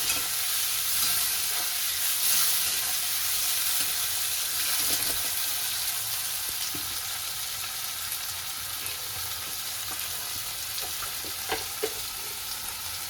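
Chopped onions with sugar sizzle and fry steadily in a hot pan, a loud continuous crackle with occasional stirring scrapes throughout.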